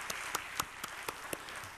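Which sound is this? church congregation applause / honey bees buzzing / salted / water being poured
church congregation applause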